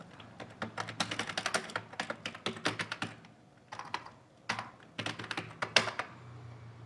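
Typing on a computer keyboard while working on a Python pandas sales analysis: quick clusters of close, crisp key clicks in uneven bursts with short pauses between.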